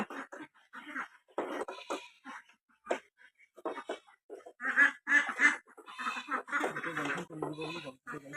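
Domestic ducks at a rural home quack in repeated bursts, close and clear, the calls coming in irregular clusters against a quiet background.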